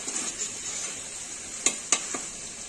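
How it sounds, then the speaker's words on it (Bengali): Potatoes and cauliflower frying in a pan of fried spices give a faint, steady sizzle, broken by two or three sharp utensil clinks against the pan near the end. "এবার আলু ফুলকপিটা এর মধ্যে দিয়ে দেব"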